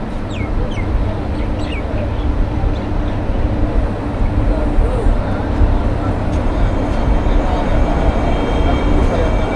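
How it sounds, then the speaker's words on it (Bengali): The Sairang-Kolkata Express stands at platform six of Azimganj Junction, a loud, steady rumble of the train blending with the murmur of a large crowd on the platform. "মিজোরামের train Sairang Kolkata express Azimganj junction rail স্টেশনের ছ নম্বর প্ল্যাটফর্মে"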